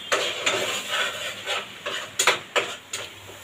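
Shrimp and spice paste being stir-fried in a pan until the oil separates, with a spatula knocking and scraping in an uneven rhythm over a soft, steady sizzle.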